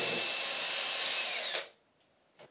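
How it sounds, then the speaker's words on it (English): A power drill with a 6mm bit boring a hole into a bathroom wall for wall plugs, a loud close whine lasting about a second and a half before stopping abruptly, followed by a faint knock. "The drill bit that I'm using for the raw plugs that I'm going to put into this wall is a 6mm drill bit."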